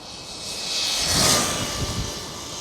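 A mini RC buggy runs at full throttle outdoors, its high electric motor whine swelling loud as it passes close, then easing slightly, with no talking.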